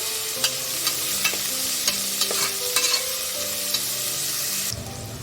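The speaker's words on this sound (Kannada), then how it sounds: "ಅರ್ಶಿನ ಎಲ್ಲ ಮಿಕ್ಸ್ ಮಾಡ್ಕೊಳ್ಳಿ" Turmeric being stirred into a brinjal rice mixture frying in a pan, with continuous sizzling and repeated scraping clinks of the spoon against the pan, close and steady, ending abruptly.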